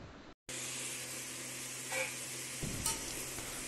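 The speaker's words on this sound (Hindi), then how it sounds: "सो ऑनियन को हम तब तक फ्राई करेंगे जब तक कि ये ब्राउन एंड क्रिस्पी ना हो जाए।" About a kilogram of long-sliced onions sizzling in hot oil for biryani, a steady close frying hiss with a brief gap at the start and faint stirring scrapes, no talk.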